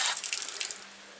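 Water rushing through flushing earmuffs clamped over the water pickups of a Mercury outdrive, a bright close hiss that fades away after under a second, with no voices.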